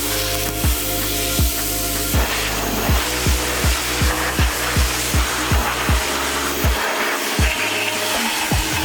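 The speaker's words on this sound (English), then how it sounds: "let's go ahead and power wash it" An old transmission is power washed with a pressure washer, giving a loud, continuous spraying hiss that carries a regular pulsing rhythm of rapid throbs throughout.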